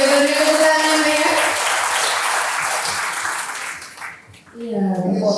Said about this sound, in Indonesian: Bapak dan Ibu boleh beri tepuk tangan ya